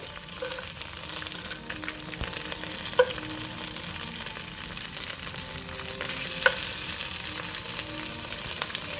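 Dried red chilies lightly toasting in a dry pan for a beef guisado, a soft steady crackle with a few sharp pops and faint scraping, no voices.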